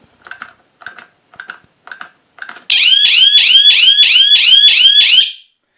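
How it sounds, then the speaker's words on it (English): An escape room prop controller's siren blares after a wrong five-button combination is entered, following five short evenly spaced button beeps, then a loud continuous warbling wail for about three seconds before cutting off. "the siren is going to blare if I get an incorrect combination"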